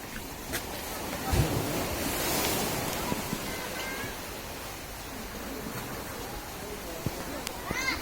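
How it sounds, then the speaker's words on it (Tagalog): Ocean surf rumbles and washes continuously in the background, with a surge of a breaking wave, while faint voices talk over it. "Babagsak yung alon diyan"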